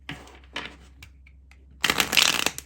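Tarot cards riffle-shuffled in a few short soft bursts, then a louder, denser flurry of shuffling near the end, close and alone with no talk.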